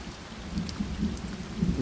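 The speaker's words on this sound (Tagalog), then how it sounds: "Umuulan?" Rain falls with a low thunder rumble in a Filipino animated scene, a soft continuous patter over a deep murmuring roll, quiet and brief with no voices.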